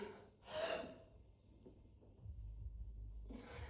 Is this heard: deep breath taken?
yes